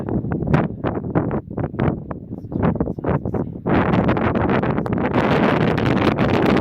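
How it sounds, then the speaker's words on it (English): Strong wind buffets the microphone on a hilltop in the Painted Desert, coming in irregular gusts at first and then settling into a continuous loud roar. "a lot of wind"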